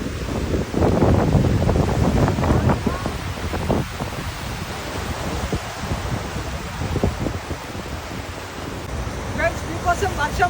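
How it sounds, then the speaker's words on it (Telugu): Rough, dangerous sea waves on a Goa beach in the rain roar and wash in a dense, continuous surge, heavily mixed with wind gusts hitting the microphone. "వర్షం పడుతుంటా కూడా చూడండి అలలు ఎంత డేంజర్గా ఉన్నాయో."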